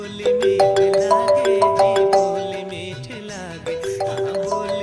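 A melodic mobile phone ringtone plays loud and close, a repeating chiming tune of bright tones continuing for several seconds.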